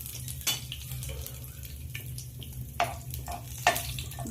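Curry leaves, fenugreek seeds and black mustard seeds sizzle softly in hot oil in a pan, with a few sharp clinks of a utensil against metal over a low steady crackle.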